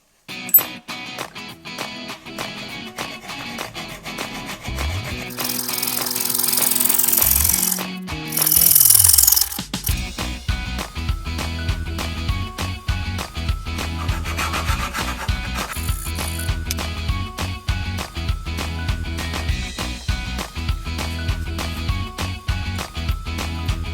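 A metal tube for an electric scooter's front frame is cut at an angle with a power tool, a motor whine rising and falling, then a long stretch of harsh, rhythmic grinding and rasping strokes, loud and near, without talk.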